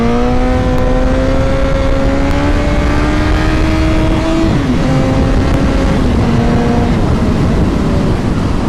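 Honda CBR 1000 sport bike engine held at high revs during a wheelie, a loud, steady harmonic whine that climbs slowly, dips briefly around mid-clip and then carries on with shifting revs, close and continuous with no talking.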